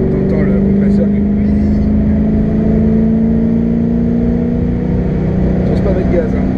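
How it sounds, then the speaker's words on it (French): A 2005 Ford GT accelerates hard, its engine droning loudly from inside the cabin with a steady rising tonal whine from the supercharger running through the roar. "T'entends le compresseur."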